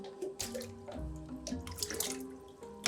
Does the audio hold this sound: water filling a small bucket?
yes